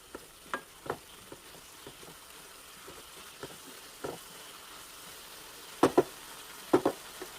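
A grated coconut mixture is stirred in a pan for a green plantain thoran, soft frying hiss under scattered scrapes and knocks of a spoon, with a few louder clacks near the end.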